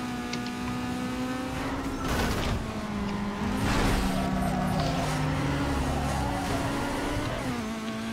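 Engine of a tuned Honda Civic racing in the video game Need for Speed Underground 2, a steady droning rev with shifting pitch as gears change, loud and continuous with no talk.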